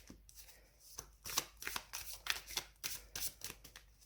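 A thick tarot deck being shuffled in quick riffling bursts, a series of crisp papery flutters repeating close by with brief pauses between.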